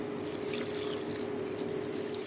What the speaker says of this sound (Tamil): இப்போ நான் வந்து இதில் தண்ணி தேவையான அளவுக்கு தண்ணி ஊற்றுறேன்